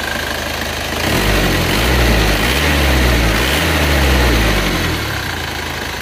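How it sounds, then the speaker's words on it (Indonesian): An Isuzu Panther diesel engine with cast liners idles steadily after repair, a loud, close, even rumble with a faint rhythmic knock running throughout, no voices. "Kita lihat kondisi mesin ini setelah kita pakai jalan ke Blitar PP. Gimana suara mesinnya?"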